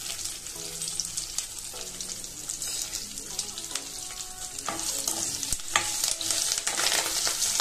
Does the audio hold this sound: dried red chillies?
yes